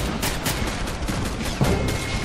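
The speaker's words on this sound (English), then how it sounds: "There's just a machine gunner up there." Machine-gun fire in Army Men Of War during a city defence battle: dense, rattling bursts of shots sound over a rumbling backdrop of battle, with one heavier thud partway through.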